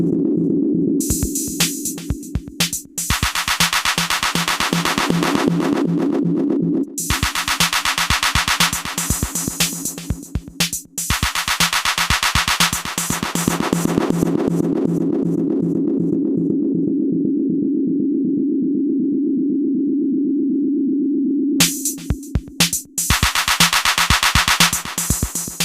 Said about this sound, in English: This mutes the input sound and at the same time sets the feedback of the two delay lines